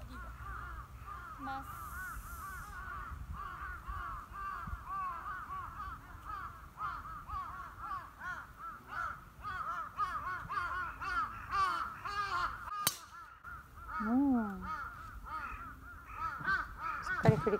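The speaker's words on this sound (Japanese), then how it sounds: "カラスの声がすごいですね。" Crows caw repeatedly around a golf course at Taiyo Club Karuizawa Resort's Asama course, harsh calls coming in uneven bursts over outdoor ambience, with faint voices in the background.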